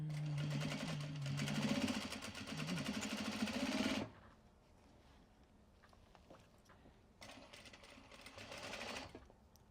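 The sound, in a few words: sewing machine stitching fabric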